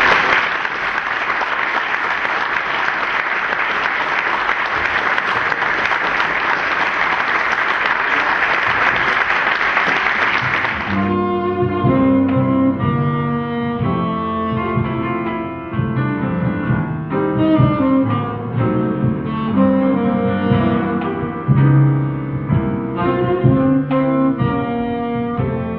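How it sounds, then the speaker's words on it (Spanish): Audience applause, a dense burst of clapping that carries for about ten seconds, then stops abruptly as music takes over. "pido para ellos un fuerte aplauso"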